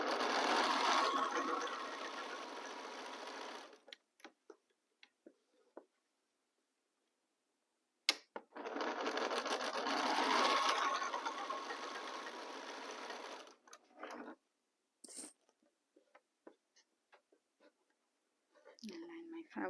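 Sewing machine running in two long bursts of stitching as quilt fabric pieces for a pinwheel star block are joined, each run lasting several seconds with short pauses and small handling clicks between.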